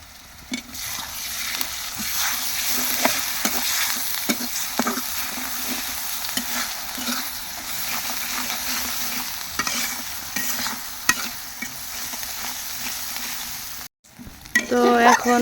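Silver carp fried in a pan with onion paste, chili powder, turmeric and salt gives a loud, dense sizzle with constant scraping from stirring. There is a brief cut near the end, then a louder burst.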